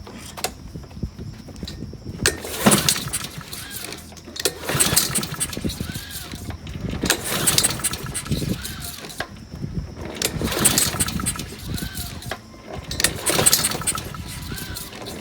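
Recoil pull-start attempts on a Craftsman mower's Honda GCV160 engine that won't start, with several loud rasping pulls in repeated bursts and brief sputters between pauses, close and outdoors.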